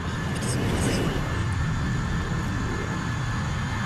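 A loud, steady vehicle engine drone from the video game Arma 3, with a broad rumbling roar, continuous throughout, with voices talking over it.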